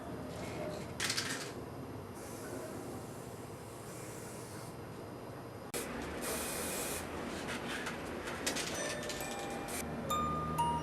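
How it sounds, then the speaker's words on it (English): Aerosol spray paint hisses in short and longer bursts onto shoes, close by, with rustling and handling noises between sprays. "So why are you spray painting those shoes?"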